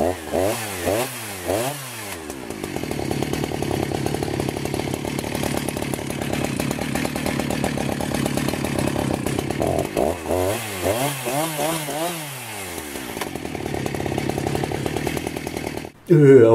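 A Husqvarna 365 chainsaw is revved in bursts, rising and falling sharply, then held at a steady loud run during a chain brake test, with a second rev series and an abrupt cutoff near the end.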